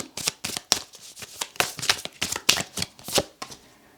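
A tarot deck is handled and shuffled close by, giving quick papery riffles and slaps in uneven bursts, with no talking.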